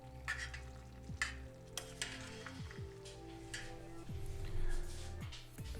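Oil heats and faintly sizzles in a pan while cooking at an ice-fishing camp, with a soft, steady crackle broken by a few clinks and stirring sounds.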